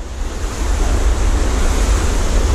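Sea surf breaking and washing over coastal rocks, a loud, continuous rushing roar that swells slightly and holds steady, with wind buffeting the microphone.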